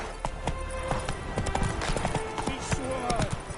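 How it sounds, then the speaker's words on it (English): Horse galloping in The Witcher 3, rapid hoof clip-clops running under game music and ambient sound, with a character's voice speaking over it. "Run, Roach"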